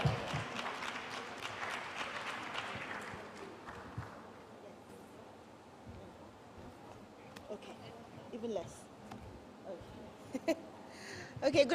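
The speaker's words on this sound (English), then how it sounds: "Please, a round of applause for her." Conference audience clapping at a women's conference in Lusaka, Zambia, with a busy burst of many hands at first that thins out after a few seconds into scattered claps and room murmur, with some voices.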